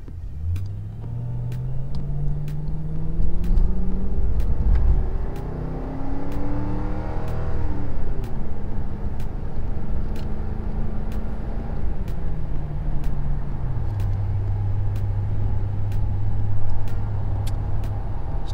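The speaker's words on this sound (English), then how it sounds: "Now let's try it inside the car as we take off." 2004 Mercury Grand Marquis exhaust heard from the cabin while pulling away, a steady low drone that climbs in pitch through the gears, dips on shifts and settles into a constant cruising hum with no talking.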